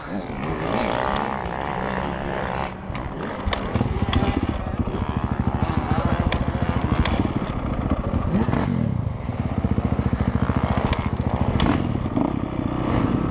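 Old Redsky, a dirt bike at the Thunder Valley track, fires up and runs with a loud, close, rattling engine drone that revs and settles repeatedly.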